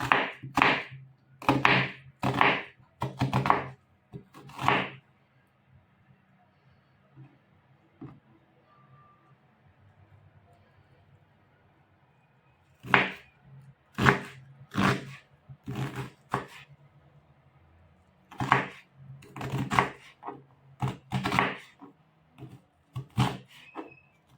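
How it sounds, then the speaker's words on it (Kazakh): Knife chopping onions into cubes on a cutting board at home, heard as two bursts of rapid, close, sharp thunks separated by a quiet pause. "жуамызды турап аламыз."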